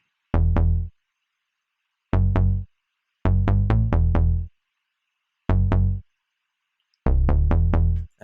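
A dry 808 bass with no effects plays a hip-hop pattern of deep booming hits, single, doubled and in quick runs of four or five, separated by silences, loud and alone.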